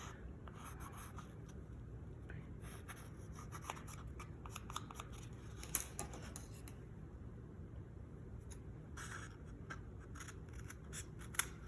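Scissors cutting through a cardboard toilet paper roll for a birdhouse craft, soft crunchy snips and rubbing of cardboard in irregular bursts with pauses, close and quiet with no talking.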